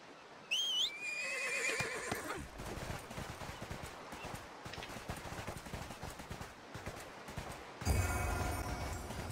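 In the video game ArcheAge, a horse whinnies sharply near the start, its cry rising and falling, then dense clattering and rumbling fills the rest, with a second bright burst near the end.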